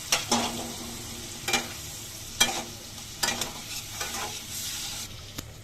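Shing catfish fries in a pan with a continuous hiss of sizzling oil, broken by repeated spatula strokes and scrapes as the fish is turned, close and fairly loud with no talking.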